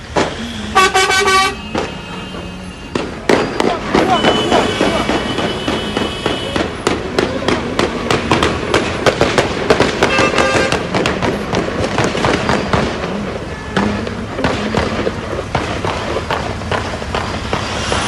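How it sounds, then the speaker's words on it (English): Rapid sharp cracks and bangs at the scene of a shooting attack in Jerusalem, sounding like gunfire in bursts over loud crowd commotion, with car horns and running footsteps throughout. "video from the scene show people running as gunshots were heard in the background"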